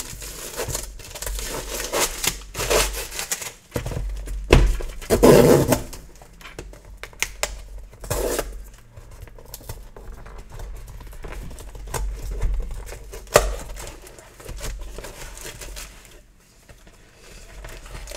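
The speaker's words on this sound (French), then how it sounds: "on va déballer le colis, on va regarder ce que ça donne" A repair technician unpacks a parcel holding a reconditioned phone and accessories, giving off bursts of crinkling and crumpling packaging and scattered handling noise at close range, with a louder rustling flurry midway.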